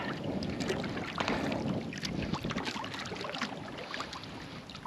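A boat being paddled across a large pond: close, repeated watery swishes and splashes from the paddle strokes over a steady bed of wind noise, with no talking.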